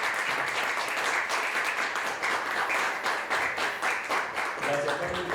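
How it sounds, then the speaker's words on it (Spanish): Sustained applause from the audience at a revolutionary colloquium at the Ateneo Dominicano, honouring surviving veterans of the April Revolution; dense, loud clapping throughout, near and even, with a brief tonal sound toward the end. "tributémosle un aplauso"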